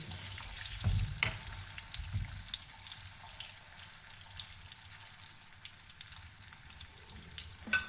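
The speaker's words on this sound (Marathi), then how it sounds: "हे सगळं तेलात होताना तेल तापलेलं आहे" Potatoes frying in hot oil for a spicy curry, a soft, steady sizzle close by with a few louder clinks and scrapes of stirring near the start.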